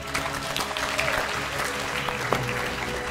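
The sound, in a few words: applause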